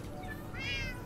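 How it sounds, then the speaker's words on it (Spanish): Cats meow in a Minecraft game, a pair of short, fairly close mews rising over steady background game noise, with no talking. "¡Ay, los gatos!"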